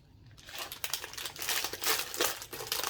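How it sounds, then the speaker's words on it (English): Crinkling of the plastic bag holding a Hasbro Dungeons and Dragons Gelatinous Cube figure, handled up close in steady, rustling bursts for about three seconds, alone with no talk. "then you get the figure inside of a plastic bag. So you get that, recycle that."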